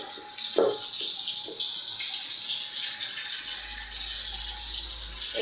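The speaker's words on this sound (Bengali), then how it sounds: "মশলা মাখানো পটলগুলোকে ছেড়ে দেবো।" Spiced pointed gourds (potol) go into a hot pan for a Bengali doi potol curry, giving a steady, bright sizzle with a soft plop or two near the start, with no talking.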